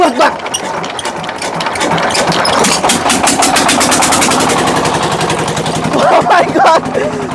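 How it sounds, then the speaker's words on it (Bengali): A large cargo boat's engine, on a boat holding a thousand maunds, on the Dharla River, cranks and catches, settling into a loud, rhythmic chugging roar, with people talking over it. "আমার জীবনে প্রথম এত বড় নৌকা স্টার দিতে যাচ্ছি"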